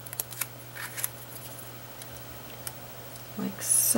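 Scissors snip through sponge-inked paper for a scalloped tag topper, a few quiet, sharp cuts and clicks spread across a faint room hum, ending with a louder rustle of paper.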